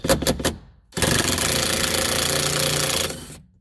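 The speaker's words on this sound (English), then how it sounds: "what you're going to do is hammer this guy off first" Rapid metallic hammering on the rear strut bracket of a 2007 Subaru Forester, a few quick strikes followed by a sustained, loud burst of dense pounding, close by with no talking.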